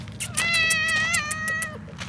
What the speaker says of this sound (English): Hello, kitty kitty.